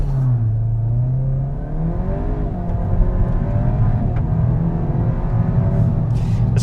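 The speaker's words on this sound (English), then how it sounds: "There's more noise coming from the exhaust pipe than there was previously." A Volkswagen Golf GTI Clubsport 8.5 engine idles low, then revs and rumbles steadily through the exhaust, a continuous close throaty drone with rising pitch sweeps.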